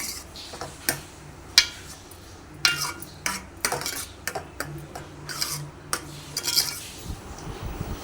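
Fried cashews, raisins and almonds stirred into Annavaram-style prasadam, with irregular metallic scrapes and clinks of a spoon against the pot, fairly faint and close.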